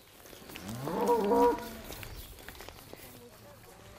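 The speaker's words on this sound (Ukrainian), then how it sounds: "Ото моя теля ще мукає" A calf lets out a single drawn-out moo at moderate distance in a village setting, rising and falling over about half a second, with quiet shuffling around it afterward.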